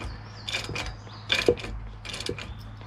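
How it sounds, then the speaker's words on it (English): Ratcheting clicks and short mechanical turns as a wrench snugs the oil drain plug back into a 2014 Mercedes-Benz Sprinter van with 500,000 miles, in a few close bursts over a low steady hum. "Now you just tighten the plug back up."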